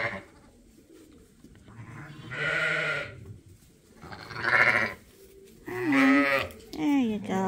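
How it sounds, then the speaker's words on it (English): Two young ewe lambs bleat in a farm pen, several loud, wavering cries in quick succession close by. "These are two nice ewe lambs from Geronimo."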